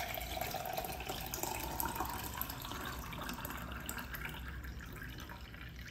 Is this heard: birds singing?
no